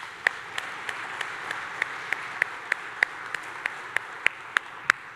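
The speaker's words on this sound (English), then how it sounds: "Second round of applause for Vincent," Audience applause for presenter Vincent at a conference main stage session, heard as a soft, steady wash of clapping with a few sharper individual claps standing out at a regular pace.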